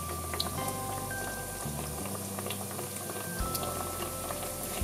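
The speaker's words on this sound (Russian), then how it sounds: "Обжариваем пончики с двух сторон до золотистого румяного цвета." Doughnuts fry in hot oil with a steady bubbling sizzle and scattered light pops, close and even throughout, with no talk over it.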